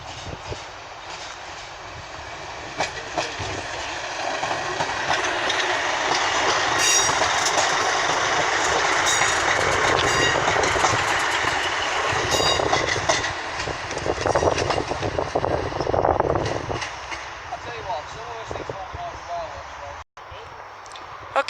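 A Class 156 diesel multiple unit, 156.422, departs a platform at Norwich station with a loud, sustained rumble, clattering wheels and squealing rails, while people talk nearby.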